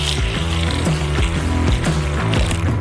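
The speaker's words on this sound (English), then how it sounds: "Pour some milk into a bowl." Milk pours into a bowl for brioche bun dough, a steady, close liquid stream with a gurgling, bubbling texture that runs continuously throughout.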